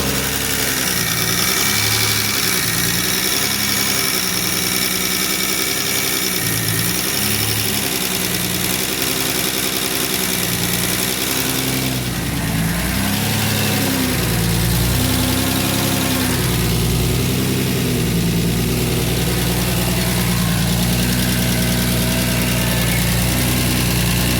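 A turbocharged 3800 V6 engine in a Buick Regal GSX idles steadily and loudly up close on its first start, with a continuous rumbling drone and a faint lifter ticking throughout.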